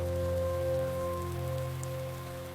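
Imagined ethane rain on Titan, rendered as a steady patter of rain on a surface, with a sustained low droning hum beneath it, moderately loud and continuous without any voices.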